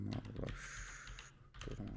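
Keys tapped quickly on a computer keyboard while entering an amount, close and fairly quiet, with a brief steady tone partway through and a voice speaking faintly underneath.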